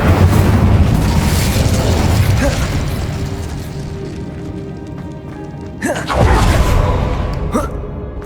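A fire spell explodes in the video game Hogwarts Legacy, landing as a sudden loud burst over continuous dense game ambience, followed moments later by a second, briefer impact.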